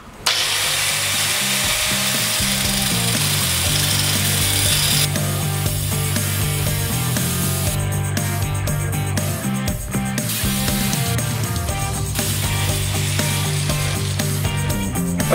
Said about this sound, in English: Go ahead and cut that off with the angle grinder.